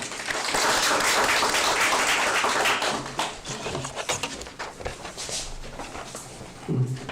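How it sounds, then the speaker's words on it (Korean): Applause from an audience at a rural tourism briefing in Namwon, welcoming the section chief to the stage: dense, loud clapping for about three seconds, then thinning into scattered claps before fading. "김현웅 과장님 박수로 함께 모시겠습니다"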